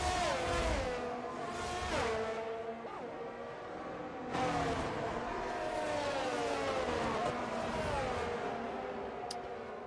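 Race cars in a racing video game rolling through the formation lap of a sprint race in Australia, their engines whining and revving continuously as several cars shift and pass.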